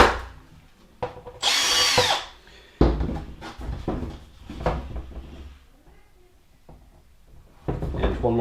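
A power drill bores holes in a plastic RC truck body for a ProLine body armor install on a Monster Slash 4x4, with several loud whining bursts of varying length separated by handling clatter and pauses.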